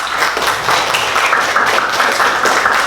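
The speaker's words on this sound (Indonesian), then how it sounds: "kasih tepuk tangan." Students applaud during a school student-council (OSIS) election event, clapping in a dense, fairly loud burst that carries on steadily, close and reverberant in the room.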